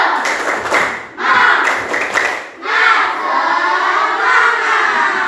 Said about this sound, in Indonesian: kita tepuk semangat sama-sama.